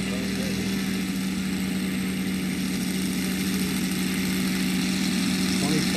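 A close-up RC Stearman model biplane motor swinging a 24/10 propeller runs steadily, giving a constant droning hum with a strong, even tone. Nearby voices talk over it.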